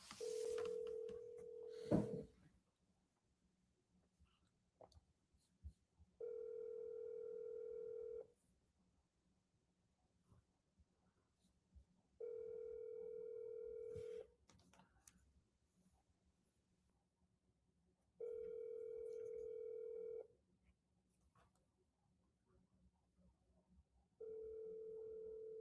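A phone call's ringback tone before reaching voicemail, four evenly spaced long ringing tones separated by silence, clear and steady, with brief clicks at the start.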